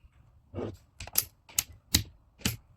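Several separate clacks of keys being struck on a KEELAT KCD012 plastic keyboard, about five crisp taps spaced unevenly, close and fairly quiet with nothing else around them.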